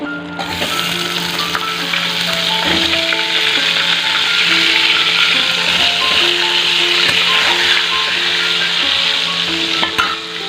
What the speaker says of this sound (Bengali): সবার আগে আলুটাকে ভাজতে দিয়ে দিই